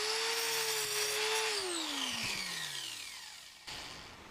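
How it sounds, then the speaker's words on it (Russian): An angle grinder fitted with an abrasive disc starts cutting into a steel gas cylinder for a homemade stove, giving a loud, steady high whine whose pitch sinks as the disc bites in, with no talk. "Начну сейчас вырезать. Установили шлифовальный диск."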